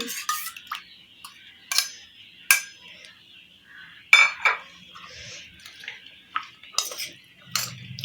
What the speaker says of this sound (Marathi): दही घातलं की हे पूर्ण व्यवस्थित लावून घ्यायचं आहे त्याला भाज्यांना